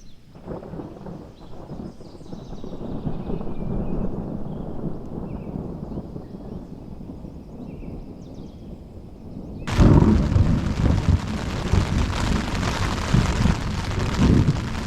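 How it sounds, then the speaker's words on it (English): Rain falls steadily in a riverside outdoor setting on a Missouri River canoe trip, with low rumbling thunder underneath; about two thirds of the way in the downpour abruptly grows louder and heavier, a dense broadband hiss close by. "It's raining again."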